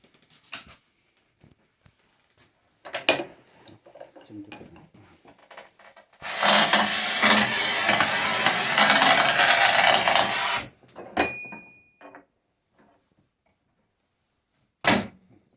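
A manual tile cutter works through a multicoloured ceramic tile that resists cutting, with a few sharp clicks and knocks, then a loud, steady rasping score lasting several seconds, followed by quieter taps and a final sharp snap.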